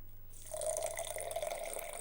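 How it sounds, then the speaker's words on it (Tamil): Water is poured steadily into a glass of instant coffee powder and sugar for a homemade whipped iced coffee, a close, continuous splashing trickle that starts after a brief quiet moment and runs on alone. "ஸோ இப்போ தண்ணி கொஞ்சம் ஆட் பண்ணிக்கோங்க"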